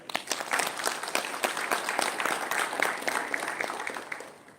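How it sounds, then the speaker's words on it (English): Audience applause for the panelists and moderators at a university panel discussion: many hands clapping in a brisk, uneven patter, moderately distant and fading slightly at the close, with no talking. "Please join me in giving a warm round of applause for our distinguished panelists and moderators."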